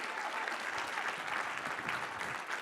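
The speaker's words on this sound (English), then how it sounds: "let's give them one more round of applause if you would" An audience at the close of a conference breaks into a round of applause, a steady, dense wash of many hands clapping at once that stays loud and unbroken throughout, with no voices over it.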